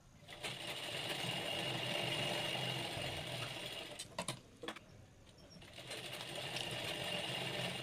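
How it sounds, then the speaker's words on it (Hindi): A sewing machine runs steadily as it stitches two fabric panels of palazzo pants together, with a brief pause and a few clicks midway before the even, close-up whirring resumes. "इस तरीके से मैनी लगा के इसको दोनों पल्लों को स्टिच कर देंगे।"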